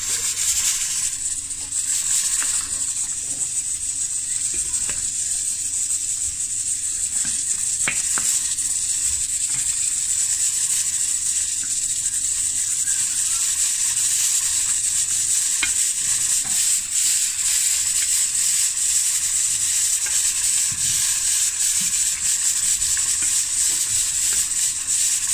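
Oxtail rice and peas with butter beans sizzles steadily in a pot, a constant close hiss with occasional faint clicks and scrapes, and no talking throughout.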